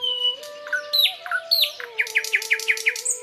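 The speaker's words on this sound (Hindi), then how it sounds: "जिसमें बहुत से बुलबुल चहचहा रहे थे" Small songbirds in rose bushes chirp and tweet in quick, bright repeated calls, clear and close over a quiet background, ending in a fast run of rhythmic notes.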